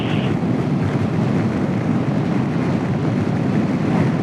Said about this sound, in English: God, it's windy out here.